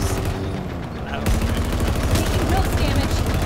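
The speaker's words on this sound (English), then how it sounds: "Chain gun rips." A Warthog turret chain gun fires in the Halo video game as a loud, rapid, continuous burst of rattling shots, beginning after a brief lull and holding steady to the end.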